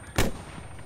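A single heavy blast from a rocket strike in a video game set on Namalsk, sharp onset with a brief rumbling tail, loud and close, then fading into low ambient noise.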